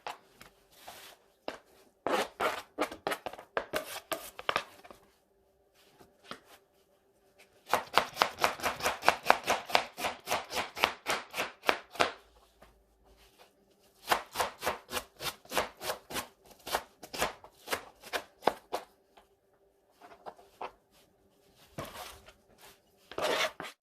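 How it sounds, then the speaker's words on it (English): Rapid knife chopping of an onion on a cutting board, coming in several quick rhythmic bursts separated by short pauses, close and crisp with no talking. "I'm gonna start chopping the onion in little squares."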